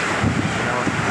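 Strong typhoon wind roars and buffets continuously, a loud, rough rush with low rumbling gusts.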